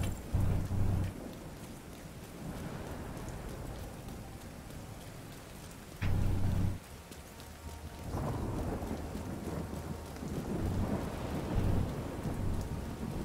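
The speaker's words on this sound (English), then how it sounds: "Damn, that storm is raging." Steady heavy rain hisses throughout a thunderstorm in The Division 2, with deep rumbling thunder swelling at the start and again midway, loud and enveloping with no talk over it.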